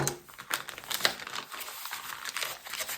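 Cardstock paper for an advent calendar crinkles and rustles steadily as it is folded in half by hand, close up with several sharper creasing crackles and no talking.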